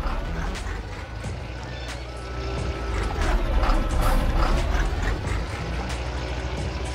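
A farm vehicle engine in Farming Simulator 19 revs under added throttle, a dense, rough mechanical roar that swells louder through the middle and holds steady, with no talking over it.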